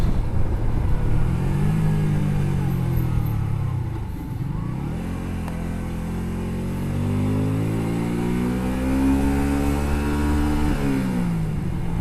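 A Honda Shadow 125cc motorcycle rides along a dusty country road, its engine droning steadily close by while the revs dip and climb as the rider shifts and throttles.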